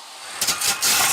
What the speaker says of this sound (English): after sawing a John Denver cassette nearly in half.